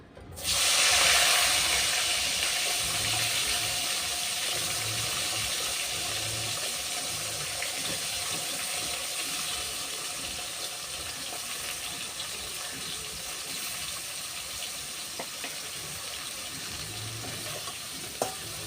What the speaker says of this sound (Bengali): সিম আর বেগুনগুলো আমি ভেজে নিচ্ছি।